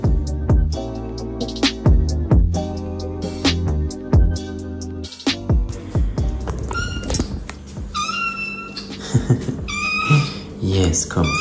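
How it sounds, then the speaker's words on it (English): A baby cat meows repeatedly, hungry before breakfast, loud and close, with rising, drawn-out cries mixed in among a person speaking nearby. "Hey, Ruby, you meowed like you are so hungry."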